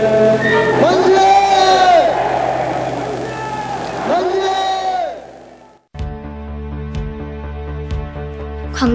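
Crowd of citizens shouting during the May 18 Gwangju uprising, a dense roar of many voices swelling in two loud waves for several seconds, then giving way to music.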